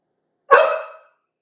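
A single short, sharp bark from a puppy rings out in an otherwise quiet room, clear and close, fading quickly.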